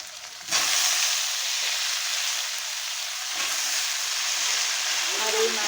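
Potatoes and vegetable stalks frying in hot oil for a river fish curry, a loud continuous hissing sizzle that starts abruptly and holds steady, with a faint clink of stirring near the end.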